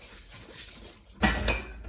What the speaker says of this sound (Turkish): Pirinci koyuyorum.